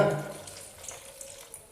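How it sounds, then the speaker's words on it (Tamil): About 300 ml of water pours into a prawn curry pot, a brief splashing gush that quickly settles into a soft trickle. "தேவையான அளவு தண்ணி சேர்த்துக்கோங்க."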